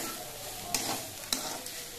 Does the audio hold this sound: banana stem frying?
yes